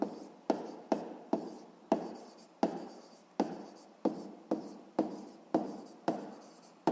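A pen scratches across paper in a quick run of about a dozen short strokes, close and quiet, as someone writes out a physics exercise by hand.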